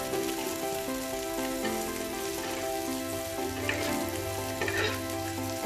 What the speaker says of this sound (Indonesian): kita panaskan margarin sampai membentuk cairan margarin rempah dan bumbu yang lebih banyak